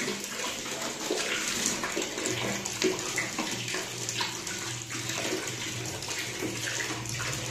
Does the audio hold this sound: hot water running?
yes